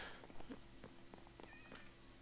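Cats in Minecraft give a few short, faint meows and soft chirps mixed with light clicks and rustling, with no talk.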